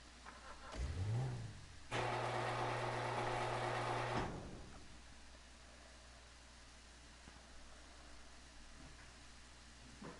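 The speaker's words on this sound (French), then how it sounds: "On va aller prendre ma voiture." A car in the video game GTA V revs and drives off with a loud, sustained engine roar lasting a couple of seconds, then fades to quiet background hum.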